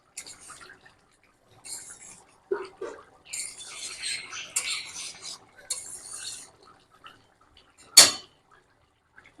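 Food being stirred and scraped in a cooking pot with added garam masala, heard as intermittent close clinks, scrapes and wet stirring sounds with a sharp knock near the end, under a quiet voice.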